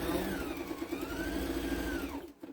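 A sewing machine stitching a fabric couch pincushion, running in one steady continuous burst at close range before stopping abruptly near the end.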